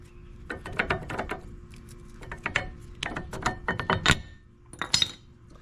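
Brake pads from a Dodge Charger Hellcat caliper being wiggled loose, giving a series of close, sharp metallic clinks and rattles in irregular bursts, with brief pauses between.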